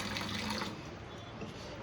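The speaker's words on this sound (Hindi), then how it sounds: "ये देखिए घड़े में से पीते हैं हम ठंडा ठंडा पानी" Cold drinking water pours from a clay pot. A brief, gushing splash lasts under a second, then fades into a softer trickle.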